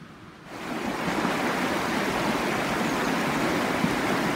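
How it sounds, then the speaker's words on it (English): Fast, furious river water rushing down Glen Shee in the Cairngorms of Scotland, a dense steady roar that swells in after a quiet half-second and stays loud and constant. "in the Cairngorms of Scotland, where the water runs very fast and furious down through"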